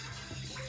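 Vegetable cooking water left from boiling potatoes and carrots pours from one pot into another, a steady quiet splashing stream that runs briefly and alone.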